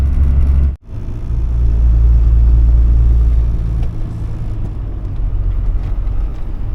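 A Ford OBS truck with a rebuilt ZF5 transmission rumbles along on a test drive, its engine a steady, close low drone that briefly drops out for a moment before settling back to an even hum, with no talking.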